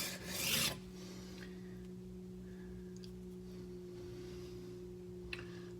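A kitchen knife edge is dragged once over a sharpening stone, giving a single loud, close rasp lasting under a second, followed by a steady low electrical hum with a few faint clicks.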